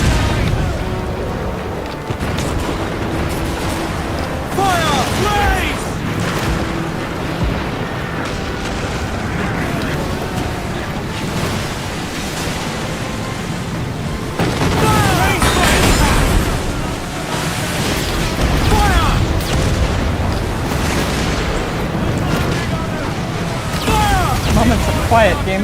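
Broadside cannon fire from a sailing ship in Assassin's Creed Black Flag, with dense, sustained volleys of booming shots rolling over one another, loud and chaotic beneath shouted crew orders.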